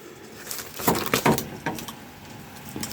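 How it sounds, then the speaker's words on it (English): Light, irregular plastic tapping and rattling, a few quick clustered knocks close by, fairly faint. "that noise is Cooper at the side of me playing with the blinds, tapping them against the window"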